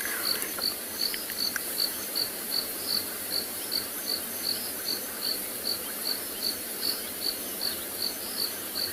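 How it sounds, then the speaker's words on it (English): Crickets and other small insects chirp steadily in the African bush at night, a rhythmic high pulsing that repeats about every half second, fairly close and constant with no voices. "Imagine, it's only little insects."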